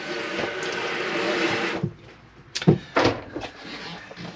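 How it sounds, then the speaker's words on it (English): Tap water runs steadily from a hand basin tap in a Bessacarr E530 motorhome washroom, a loud broadband rush that stops abruptly partway through, followed by a few sharp knocks and clatters. "obviously a hand basin tap"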